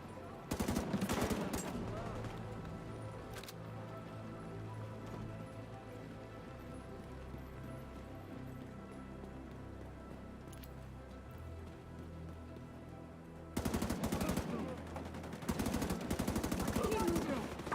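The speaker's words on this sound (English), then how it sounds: "Keep firing and take them out." Video game gunfire against hostiles comes as bursts of rapid automatic shots at the start and again near the end, separated by a quieter stretch with a lone shot and low background rumble.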